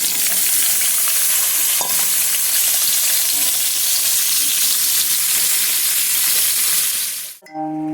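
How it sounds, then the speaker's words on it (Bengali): Vegetables sizzle steadily in hot white oil in a wok, a dense continuous frying hiss close by. A faint clink sounds early on, and the frying stops abruptly near the end. "আমি একে একে সবগুলি ভেজে নিই।"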